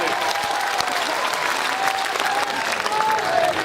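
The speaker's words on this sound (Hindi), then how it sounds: "दोनों हाथ खड़े करके जोरदार तालियां बजाकर मुझे हुक्म दे।" Dense, continuous clapping from a large audience at a religious speech gathering, loud and sustained throughout, with a few faint voices mixed in.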